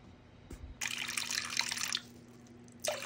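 Water pours in a steady, splashy stream into a container for bread dough after a brief knock, stopping and then starting again briefly, close and fairly loud with no talking.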